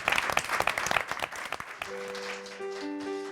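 An audience in Queens gives a warm round of applause welcoming a singer, a crowd of clapping hands for about two seconds that fades as sustained piano-like notes begin.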